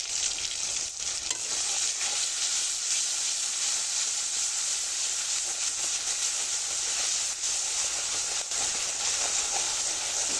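Steady, loud sizzling and hissing of a green chilli, cumin and onion paste frying in hot mustard oil, a continuous bright crackle with faint stirring and no talk.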